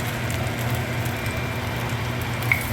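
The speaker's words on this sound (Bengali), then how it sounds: "একটা একটা করে আমি ইয়েগুলো ছেড়ে দিচ্ছি, মাঞ্চুরিয়ান বলগুলো" Veg Manchurian balls frying in hot olive oil, a steady crackling sizzle with small popping bursts, close and continuous with no voices over it.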